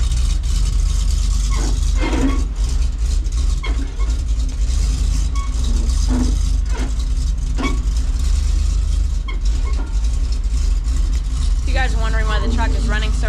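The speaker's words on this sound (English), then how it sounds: "Wondering why the truck is running so rough, it's because it has a bad oxygen sensor in it" A farm truck with a bad oxygen sensor runs rough, its engine rumbling loudly and unevenly throughout, with a brief voice near the end.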